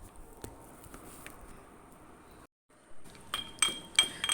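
A chesni is used to mash chalta (elephant apple) bharta, giving soft scraping and taps, a brief silence, and then several sharp, close metallic clinks toward the end.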